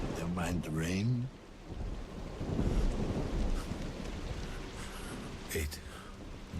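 Rain and rolling thunder in a nighttime cyberpunk city scene from the game Observer, a steady wash of rainfall with low rumbling and a brief voice near the start and again later.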